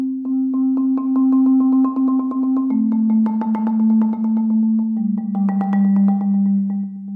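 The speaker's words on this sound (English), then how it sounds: "Marimbists are often criticized by performing accelerations and deaccelerations when they're" Marimba rolls sustained as steady tremolo chords, their rapid mallet strokes visibly speeding up and slowing down, with the low chord shifting downward a couple of times; played alone, close and fairly loud.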